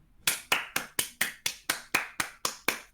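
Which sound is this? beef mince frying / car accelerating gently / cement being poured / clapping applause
clapping applause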